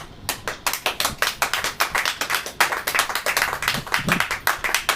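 Church congregation clapping hands together in a steady, rhythmic beat, many sharp claps close and loud with no voices over them.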